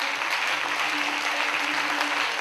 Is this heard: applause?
yes